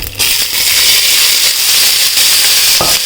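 Chickpeas for chole tipped into spluttering hot oil, a loud, dense, continuous sizzle and crackle close up that holds steady throughout with no voices.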